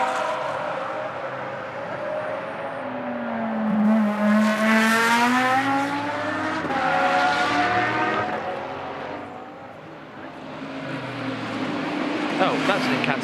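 A Reiter Engineering Lamborghini race car at Blancpain Sprint Series free practice in Moscow, its engine note climbing and falling through gear changes as it passes, loud and near, under continuous commentary.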